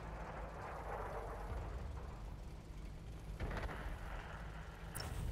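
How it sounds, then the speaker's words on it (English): An artillery shell strikes a Tiger II tank in a tank battle video game, giving a loud, dull rumbling impact with a sharp crack near the end. It plays over a continuous low engine drone. "fucking artillery got me"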